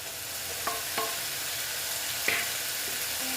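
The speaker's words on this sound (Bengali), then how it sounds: "টমেটোর সঙ্গে মশলাটাকে কষিয়ে নেব" Spice paste frying with tomatoes in a pan for a Bengali tangra fish curry, a soft, faint sizzle with a few light stirring scrapes and clicks, no talk.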